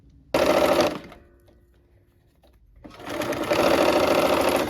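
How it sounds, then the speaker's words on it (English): Sewing machine stitching down a quilt seam, a loud fast mechanical whir in two bursts, a short one then a longer steady run, with a quiet pause between. "So now we'll sew down this side."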